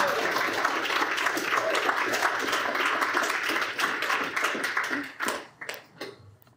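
An audience gives sustained applause to welcome a speaker at a university speakers series talk. The dense, steady clapping fills the room, then thins into scattered claps near the end.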